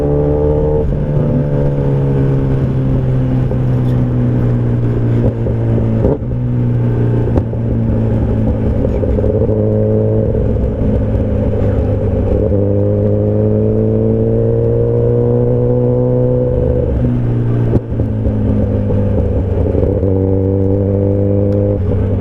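A Kawasaki Ninja ZX10R superbike in full power mode, its engine droning loud and close with steady harmonic tones that rise and dip as the revs change, running continuously with no talk.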